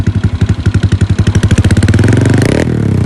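Honda Vario 125 scooter engine with a modified setup, heard close and loud as a choppy pulsing idle that revs up into a fast, rising roar and then holds.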